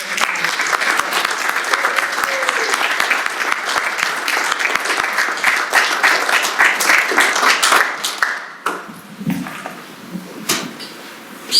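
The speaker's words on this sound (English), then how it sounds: "So if we could give everybody a round of applause." Audience applause at a Hill Bros company meeting, a loud sustained roar of many people clapping that fades out near the end, leaving scattered claps and room noise.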